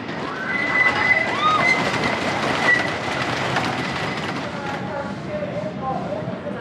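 A roller coaster train at Kings Dominion amusement park rolls along its track at night, a loud steady rumble and clatter with high wheel squeals, and voices talking over the ride noise.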